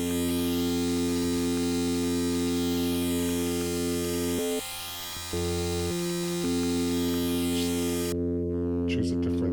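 A dry, unprocessed synthesizer signal ahead of a Buchla 297 phase shifter: a steady buzzing harmonic drone with brief dropouts, ending in a few clicks.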